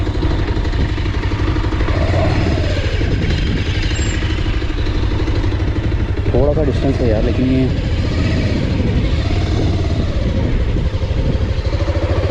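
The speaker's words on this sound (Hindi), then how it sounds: "आई होप कि निकल जाए यहाँ से बाइक।" A Bajaj Pulsar 220 motorcycle engine drones loudly and continuously while the bike pushes through a river crossing, with water churn and wind rumble throughout and someone talking over it.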